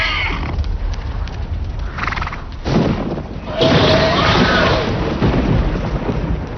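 Wild mustangs whinny amid a thunderstorm, with a neigh rising over heavy rumbling and rain-like noise that swells midway and stays loud.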